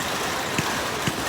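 Heavy rain pouring over an outdoor paintball field, a loud, constant hiss with a couple of brief thumps mixed in.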